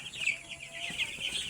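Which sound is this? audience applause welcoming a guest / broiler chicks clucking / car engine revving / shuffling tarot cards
broiler chicks clucking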